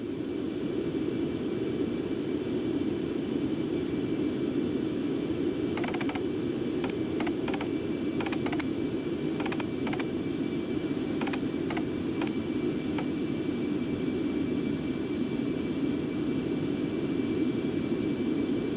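Concorde jet engines roar in the X-Plane 11 flight simulator, a steady, dense drone held throughout, with a burst of computer keyboard clicks partway through and no talking.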